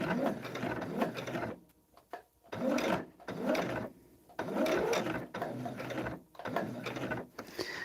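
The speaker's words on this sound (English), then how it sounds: "So now we're just going to continue to sew down that line." A sewing machine stitches a seam on a Hunter Star quilt in a run of short, quick bursts separated by brief pauses, close and fairly quiet.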